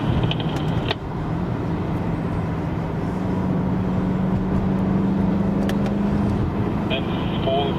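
An AMG car lapping the Nordschleife at speed, its engine a loud steady drone with a rising tone of road and wind roar, while someone talks over it throughout.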